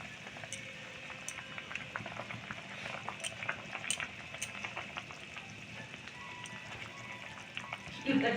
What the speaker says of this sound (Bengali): তো দেখছো আমার তরকারিটা ফুটে উঠেছে